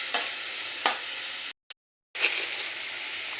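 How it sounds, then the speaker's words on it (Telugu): Sliced onions sizzle and fry in a pan with salt as they're stirred, a steady hiss broken by a few scraping strokes and a brief silent gap midway. "ఇలా ఆనియన్స్ అన్నీ వేసేసుకుని ఫ్రై చేసుకుందాం బాగా మిక్స్ చేసేసుకుని"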